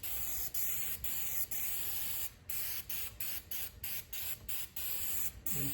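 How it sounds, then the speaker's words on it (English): Repeated short bursts of aerosol paint remover spray hissing close up, a steady rhythm of presses with brief gaps between them. "And spray these areas."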